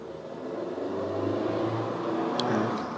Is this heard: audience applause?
no